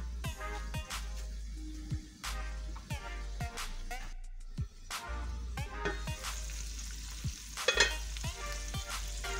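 Minced meat (keema) fries in hot oil with a steady, close sizzle, broken by repeated scraping and clacking as it is stirred, with no talking.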